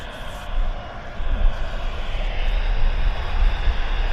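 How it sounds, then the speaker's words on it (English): A British Airways passenger jet departs Vancouver airport for London Gatwick, its engines giving a loud, broad roar that swells and holds steady across the clip. "this is British Airways flight 2278 heading from Vancouver to London Gatwick"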